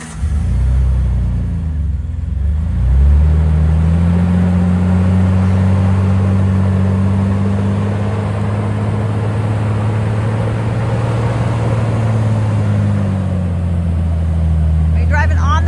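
A vehicle crawls over rock in Moab, its engine a loud, steady low rumble that rises slightly in pitch and holds, close up, with people talking over it.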